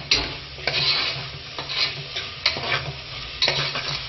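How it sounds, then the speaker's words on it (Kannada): Tomatoes with turmeric powder frying in a pan for tomato bath, stirred with a spoon in rhythmic scraping strokes over a continuous loud sizzle, close up and without voices. "ಅರಿಶಿಣ ಪುಡಿನ ಹಾಕಿ ಚೆನ್ನಾಗಿ ಅದನ್ನು ಮಿಕ್ಸ್ ಮಾಡಿಕೊಂಡು ಫ್ರೈ ಮಾಡ್ಕೊಳ್ಳಿ"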